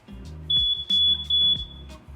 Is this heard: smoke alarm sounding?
yes